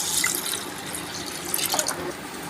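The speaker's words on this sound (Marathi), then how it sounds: "ह्याच्यामध्ये मी एक तांब्या पाणी टाकलेले" Water poured from a small metal pot into a simmering home-style mutton curry, a steady splashing pour lasting a couple of seconds, close and moderately loud with no talk over it.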